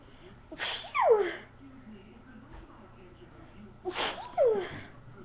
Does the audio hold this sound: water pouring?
no